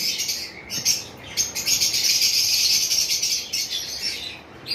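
A pair of pet red-headed lovebirds chirping in a cage, rapid high tweets in quick bursts, close and fairly loud, with no talking.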